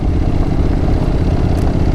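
A Honda NC750X motorcycle engine rumbles steadily up close, a low continuous drone with a slight mechanical clatter.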